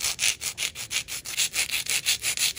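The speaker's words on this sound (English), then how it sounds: "All I'm doing is like filing away this little points on the side" A file rubs back and forth across polygel nail tips, making a close, rhythmic scratchy rasp of about a dozen quick even strokes with brief pauses between them.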